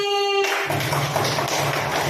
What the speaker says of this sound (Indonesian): Tepuk tangan untuk kelompoknya Mbak Silvi.